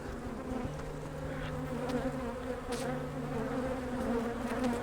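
Honey bees buzz calmly around an opened hive during a split inspection, a steady close droning hum with individual bees passing near.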